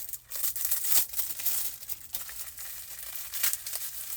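A package being cut open and unwrapped, with close, continuous crinkling and tearing of plastic or paper that rises and falls in short bursts.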